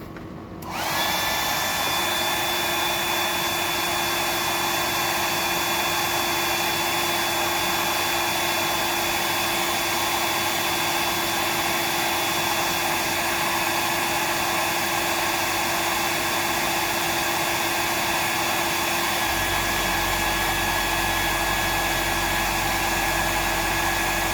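A hair dryer runs loud and steady for the whole stretch, a constant whooshing roar with a fixed motor whine, starting abruptly and continuing unbroken without talk.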